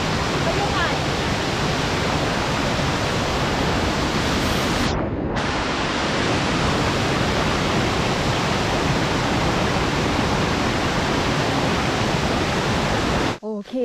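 The Pha Taek waterfall in Khao Laem National Park, Kanchanaburi, roars in a constant, dense rush of water that fills the whole clip without letup.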